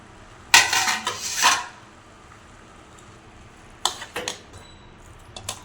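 Chicken pieces tipped into a pan of tomato masala for chicken curry, a loud burst of clattering pan and utensil scrapes, then quieter intermittent clinks and stirring knocks.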